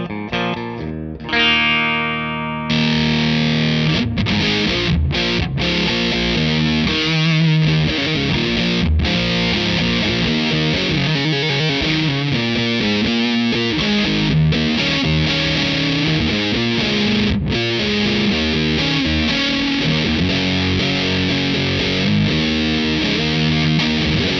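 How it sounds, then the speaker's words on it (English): An electric guitar through an Anasounds Full Story modular fuzz with Ram's Head and op amp modules plays a sustained, thick distorted riff. The loud, saturated fuzz runs continuously with brief chord changes and no talk. "I'm going to follow it up with the op amp, and that's actually going to give us a tighter sound"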